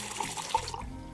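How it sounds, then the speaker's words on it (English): Pilsner beer pours into a glass in a short liquid stream, splashing and gurgling as it fills, quiet and close with a slight thud near the end. "Trude, would you pour me one of your Pilsner beers, please?"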